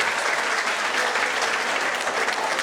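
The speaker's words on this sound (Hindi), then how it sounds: "एक बार अपनी तालियां आभार स्वरूप उस परम पिता परमेश्वर के लिए।" Sustained audience applause fills a hall at a Maharana Pratap Jayanti celebration in Mulund, Mumbai, a dense, steady wash of many hands clapping together with no gaps and no talk over it.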